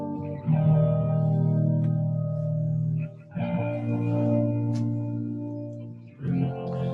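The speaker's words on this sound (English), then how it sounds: "Some nice crunch coming from my 67 Deluxe reverb profile there." Sustained crunchy, mildly distorted electric guitar chords through a '67 Deluxe Reverb amp profile, ringing out with reverb, strummed in a few long phrases.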